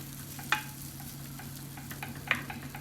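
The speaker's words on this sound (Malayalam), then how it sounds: "നമുക്കിതൊന്ന് വെളിച്ചെണ്ണയിൽ പയ്യൊന്ന് വാട്ടിയെടുക്കാം" Ivy gourd sautés in coconut oil with a continuous low sizzle, broken by two sharp clinks of a utensil against the pan.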